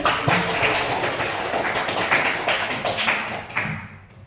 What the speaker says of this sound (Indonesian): Kita kasih aplaus lagi.